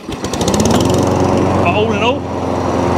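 A FEIDER TR5220 lawn mower engine runs close by with a steady, loud buzzing drone while someone talks briefly over it.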